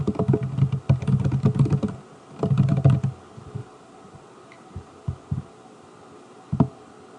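Bursts of keyboard typing while an admission diagnosis is entered on a computer, two dense flurries of clicks early on, then sparse isolated keystrokes with pauses in a quiet room.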